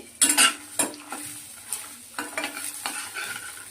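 Curry leaves, tamarind and four or five garlic cloves frying in a pan, with sharp crackling bursts and clinks of a spoon stirring, close and loud, in uneven pulses over a low sizzle.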